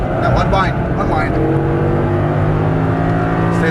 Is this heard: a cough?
no